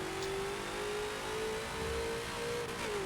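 A Ford GT40 race car in Forza roars at full throttle on the old Mulsanne layout of Le Mans, its engine note holding a steady high pitch with a slight rise and fall, loud and continuous with no talk.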